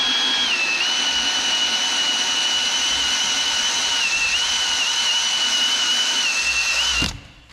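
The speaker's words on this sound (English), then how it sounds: "I'll clean that up and then we'll use our eraser wheel real quick." A drill-driven eraser wheel strips decal residue from the body of a single-cab dually pickup truck, giving a loud, steady high-pitched whir that holds for about seven seconds and then cuts off abruptly.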